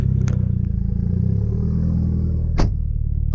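A Mitsubishi Lancer Evolution 8 engine runs at a steady, loud idle with a deep, continuous rumble, and a short sharp clatter near the end.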